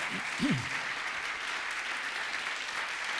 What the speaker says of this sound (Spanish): Dale un aplauso al Creador.